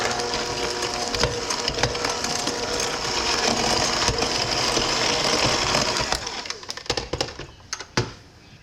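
An electric mixer whirs steadily as it creams room-temperature butter for sourdough discard sugar cookie bars, running continuously before slowing and stopping with a few clunks near the end.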